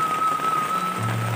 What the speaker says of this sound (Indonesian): diguyur hujan, lumayan lebat ya hujannya teman-teman